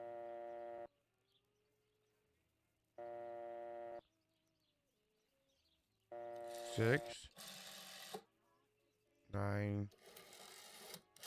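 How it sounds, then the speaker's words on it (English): A rotary phone is dialed in the video game Martha is Dead. Steady ringing-tone bursts alternate with mechanical whirring from the dial, and a voice speaks between them. "Oh, it's a rotary phone."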